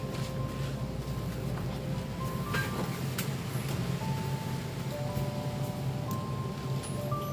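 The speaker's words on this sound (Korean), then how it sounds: "비가 촉촉히 소리가 좋네요. 빗소리가." Steady rain falling outdoors, a continuous soft hiss with occasional sharper drop ticks, even and moderately close, no talking.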